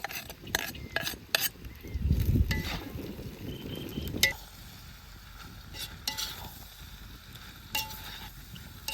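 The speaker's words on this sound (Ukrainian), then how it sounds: "Обсмажуємо разом із м'ясом ще декілька хвилин." Steady sizzling of meat and onions frying in a pot for bograch, with occasional stirring scrapes and clinks of a utensil against metal.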